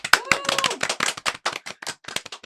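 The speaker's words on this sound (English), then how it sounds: "I'm clapping for you guys, by the way." A single person clapping hands on a podcast set, a quick run of about a dozen close, sharp claps in an uneven rhythm, no talking over them.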